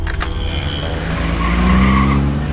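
A car pulls away on a Mumbai street with a loud, close engine rev and a brief squeal of tyres that rises in pitch as it accelerates.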